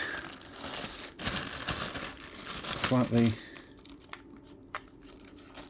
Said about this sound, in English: let's take it out of its plastic bag